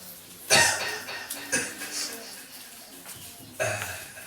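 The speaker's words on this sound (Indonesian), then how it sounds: "Banyak batuknya." Several separate coughs from an unwell person at an Islamic religious study gathering, sharp bursts spaced a second or more apart against a quiet room.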